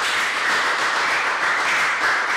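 Sustained audience applause for a singer at a televised French-language talk show, a steady dense wash of clapping with no gaps, fairly loud and close throughout.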